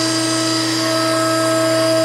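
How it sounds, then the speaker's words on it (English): Hydraulic tube bender's clamp die retracting on 2 x 3 tube work: a loud, steady, tonal machine whine and hum holding constant throughout, with no talk. "Retract our clamp die."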